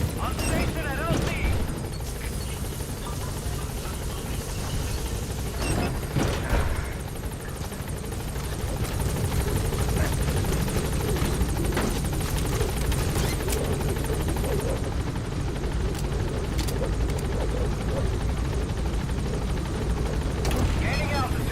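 B-Quad helicopter in Metal Gear Solid V, a loud, continuous rotor thrum and turbine roar holding steady close by for the whole stretch, with radio voices talking over it.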